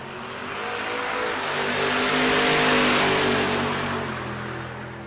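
A Pontiac race car powered by a turbocharged LS engine of 1065 horsepower revs loudly, a dense roaring drone swelling toward the middle and easing off again as it passes close by, with no talk.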